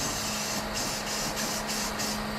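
A spray gun hisses steadily and loudly, close up, as paint goes onto a large panel of a 1966 Chevy C30 truck, with faint regular pulses as the gun sweeps back and forth.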